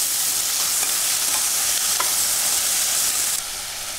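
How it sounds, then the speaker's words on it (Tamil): Onion and tomato with curry leaves stirred and frying in a pan, a loud steady hiss of sizzling oil with faint spoon taps scattered throughout, close up and without talk. "இந்த வெங்காயம் தக்காளியை நல்லா கலந்து விட்டுக்கோங்க."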